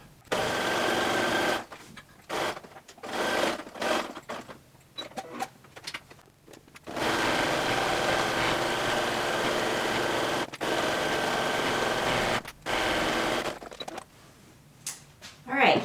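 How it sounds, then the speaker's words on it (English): A home sewing machine stitches down the side seam of a pair of sweatpants in long steady runs, pausing briefly between bursts, with short spells of quieter handling in between. "we're going to sew down this top part of the seam"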